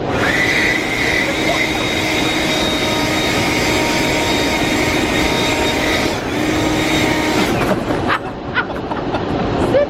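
A lawn blower blows cut hair off a person outdoors after a haircut, a loud, close, continuous rushing roar that shifts and sputters near the end.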